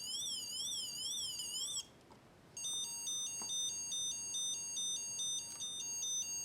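Electronic siren from the sound brick of the 1986 Lego Hook and Ladder Truck, set 6480: a rapid rising-and-falling warble for about two seconds, a short gap, then a steady two-tone alternating beep, fairly faint.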